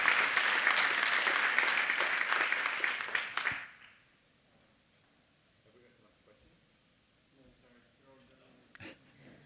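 Audience applause at a talk, dense and steady for about three and a half seconds before cutting off sharply, leaving quiet room tone with a faint voice and a brief noise near the end.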